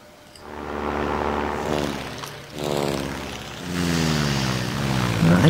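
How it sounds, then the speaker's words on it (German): A propeller airplane drones steadily with a loud, continuous engine hum that swells and eases, alone with no talk, in the flight combat video game Ace Patrol. "mit dem anderen Flugzeug, ja, auch vorsichtig weiterfliegen"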